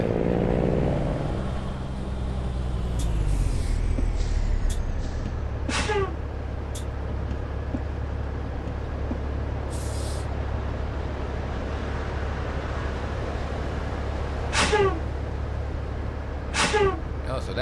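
Jake brake on a Kenworth T2000 truck in American Truck Simulator: a deep, steady engine-brake rumble that drops in pitch at the start, with a few sharp air-brake hisses later on.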